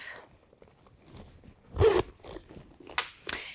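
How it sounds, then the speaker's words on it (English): A zipper on a handmade leather purse is pulled closed in one quick, close rasping run, with a few soft handling scrapes and taps around it. "And then you can zip it up."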